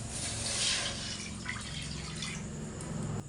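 Water poured from a bowl into a pan to make a light sugar syrup for palm-fruit pitha, heard as a soft continuous splash and trickle, close and fairly quiet, ending abruptly.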